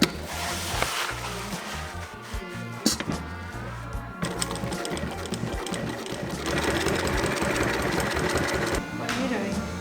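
A sewing machine stitches sail cloth pieces for a boom bag in a sailmaker's loft, running in a steady loud whirr that speeds up and slows in uneven stretches, with brief pauses between runs.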